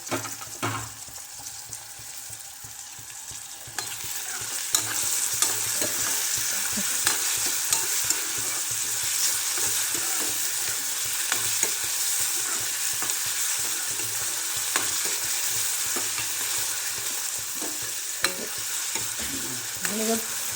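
Tomatoes fry in hot oil for a soaked yellow pea usal, a steady close sizzle that jumps louder partway through, with frequent scraping stirs and small pops throughout and no talking.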